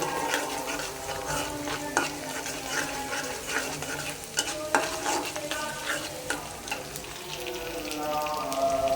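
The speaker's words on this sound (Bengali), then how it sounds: "এখানে আমি পেঁয়াজ তেলে ভাজতাছি পেঁয়াজ ভাজতাছি" Sliced onions frying in hot oil with a stirring spoon for beef and mung dal khichuri, a steady close sizzle broken by repeated scraping stir strokes.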